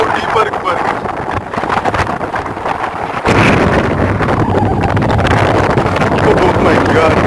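Strong wind blowing at Manimuthar dam, roaring steadily into the microphone as a loud buffeting rush that grows stronger midway, with voices faintly under it.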